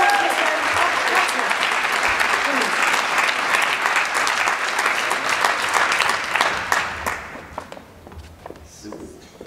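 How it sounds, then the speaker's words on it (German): Loud audience applause at a gala poetry slam, dense clapping from a crowd that holds steady, then thins out and fades toward the end. "Empfangen Sie mit einem kräftigen Applaus"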